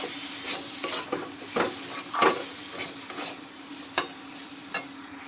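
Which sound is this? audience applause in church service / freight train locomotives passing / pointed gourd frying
pointed gourd frying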